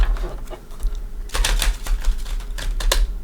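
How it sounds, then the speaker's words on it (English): Angel Tarot cards being shuffled by hand, crisp riffling bursts of paper snapping together in quick clusters, close and fairly loud with no talking. "So we're going to shuffle them that way until I break them in."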